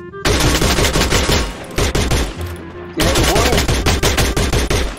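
Rapid automatic gunfire from a shooter video game fills the clip in loud dense bursts with a short pause in the middle, while a voice speaks briefly over it.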